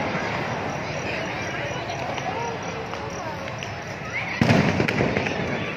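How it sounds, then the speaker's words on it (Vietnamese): Lunar New Year fireworks display in Long Thành, Đồng Nai, heard as a dense, continuous crackle and rumble from a crowd-filled outdoor scene, swelling with a louder burst near the end while voices murmur throughout. "Bắn phá bông đón mừng Xuân Kỷ Hợi."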